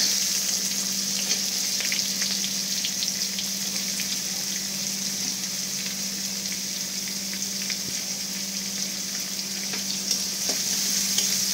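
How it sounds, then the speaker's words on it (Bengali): Chopped onion frying in a black mustard seed tempering for chirer polao, a steady close sizzle and crackle with faint stirring scrapes, no voices. "ফোড়নটা ভালো করে ভাজা হয়ে গেলে এখানে আমি অ্যাড করে দেবো কেটে রাখা পেঁয়াজ কুচি"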